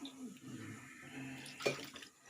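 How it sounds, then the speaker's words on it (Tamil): Half a cup of water is poured into a pot of jaggery for sweet pongal, a faint, brief trickle and splash in a quiet kitchen. "அதே அளவில் அரை கப்பு தண்ணி விட்டுக்கலாம்"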